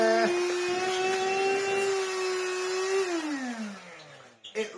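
A Beldray Airgility 22v cordless vacuum cleaner whirs with a steady high motor whine that drops in pitch as it winds down near the end, followed by faint handling knocks.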